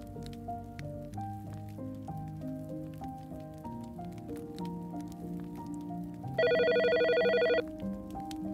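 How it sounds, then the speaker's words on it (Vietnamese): A telephone rings in an audiobook: a loud, steady electronic ring lasting about a second, set against soft melodic background music with no voices. "Tiếng chuông điện thoại reo,"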